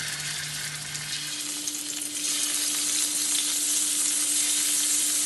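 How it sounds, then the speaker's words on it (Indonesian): Chicken pieces fry in hot oil in a pan, a loud, steady, close sizzle that intensifies partway through, with a faint thin tone underneath. "saya goreng dulu"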